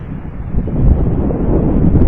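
Strong wind buffets the microphone at an empty sandy beach campsite, a continuous roaring rush that swells slightly louder after the first moment, with no voices.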